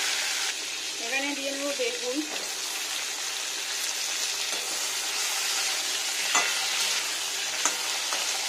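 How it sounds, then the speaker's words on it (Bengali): Yardlong beans with ginger fry in a pan with a steady, close sizzle and occasional stirring clicks, while a voice is briefly heard early on. "এখানে আমি লবণ অ্যাড করছি না, শুধু প্লেন ভাজা করছি।"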